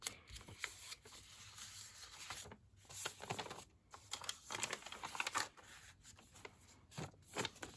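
Sheets of A4-sized paper are folded and creased by hand for a junk journal, giving close, repeated crinkles, rustles and sharp creasing swipes with short pauses between them and no talking.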